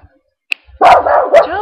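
A dog barks close by, a sharp yip followed by a longer run of loud barks and whining yelps.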